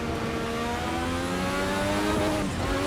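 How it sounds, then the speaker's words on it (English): A simulated Formula One-style race car engine in Assetto Corsa whines and climbs in pitch, a steady high turbo spool rising over the motor's drone, with no talking. "It's got the turbo, which you can probably hear spooling up"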